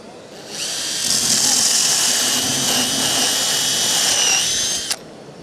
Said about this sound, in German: Dadurch ist es auch möglich, diesen Bohrer ganz unproblematisch in einer Handbohrmaschine einzusetzen.